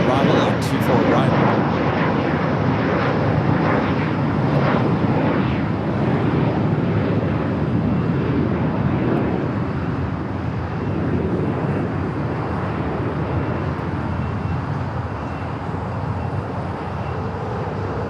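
An airliner arriving on runway 24 right at Los Angeles International Airport gives a steady, loud broadband roar that holds for the whole stretch, with indistinct voices murmuring underneath.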